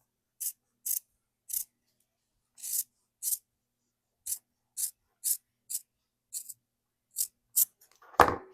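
Scissors trimming the back of a hand-stitched fabric piece in a slow-stitch project: about a dozen crisp, separate snips spaced at an uneven rhythm, close and clear, with a rustle of fabric at the very end.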